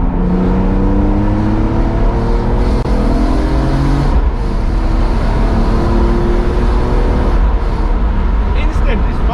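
BMW E46 M3 with SMG gearbox accelerating flat out with traction control off and sport mode on, a loud close engine roar rising in pitch through the revs with quick gear shifts, under steady road and cabin noise.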